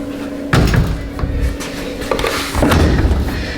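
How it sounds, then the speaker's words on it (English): A door fitted with a doorknob pocket is opened, giving a couple of woody thumps and knocks with some rattling over a steady background hum, close and fairly loud. "let's open the door, make sure everything falls into place"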